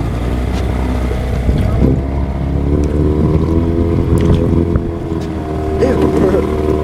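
A small boat with an old 15 horsepower outboard motor runs steadily at idle and low speed on the water, a continuous close drone with some wind noise, while people talk over it.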